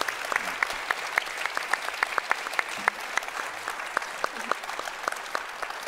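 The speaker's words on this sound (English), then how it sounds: "can I have one warm round of applause for my guests, please?" An audience claps warmly for guests at an art talk, a steady, dense round of applause with sharp individual claps standing out, continuing throughout without voices.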